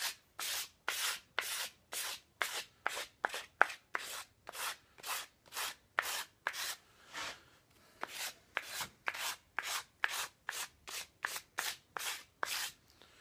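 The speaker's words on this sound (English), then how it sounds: "I'm going to use a wood block with sandpaper on it and get all the inconsistencies off of that that arc there" Sandpaper wrapped on a wood block rubs across the curved edge of a wooden guitar body, building a steady run of about thirty close, even, raspy strokes with short gaps between them and no talk.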